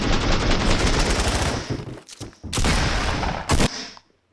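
Rapid automatic gunfire in Fortnite, a loud sustained burst that breaks off, resumes in two further short bursts, then cuts to silence.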